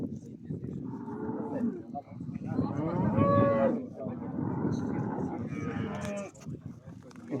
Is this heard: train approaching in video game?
no